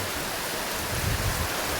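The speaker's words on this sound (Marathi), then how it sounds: "जोरात आलेला आहे पाऊस बघा या साईड बघा पावसासोबत वारा पण सुद्धा आहे" Dense, steady hiss of heavy rain with a broad gusting roar underneath, loud and continuous throughout.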